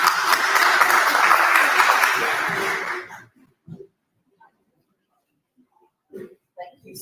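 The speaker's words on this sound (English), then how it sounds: "Give me a round of applause, please." Applause from a conference audience greeting an introduced speaker, a dense wash of clapping that fades out after about three seconds, followed by a few faint scattered sounds in near silence.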